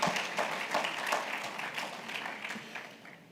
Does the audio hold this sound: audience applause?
yes